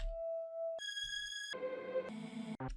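A deep house ambient FX sample plays alone: a sequence of clean synthetic tones, each holding one pitch before abruptly switching to a brighter, buzzier layered tone, ending with short stuttering blips.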